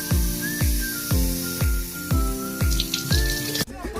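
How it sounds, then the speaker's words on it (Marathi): Water pouring in repeated splashing bursts into a cooking pot in a home kitchen, about seven gushes in quick succession with a hissing spray, ending abruptly before a short thud. "आता याच्यात टाकायचं पाणी."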